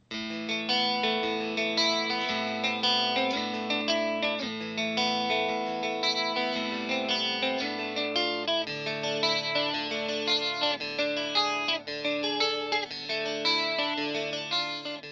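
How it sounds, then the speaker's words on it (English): Steady, continuous electric guitar picking, double-tracked on the neck pickup through an Effectrode PC2A tube compressor, with a thick, doubled tone, evenly compressed and smooth, playing alone without any talking. "the main picking is this guitar double tracked on the neck pickup using only the Effectrode PC2A tube compressor"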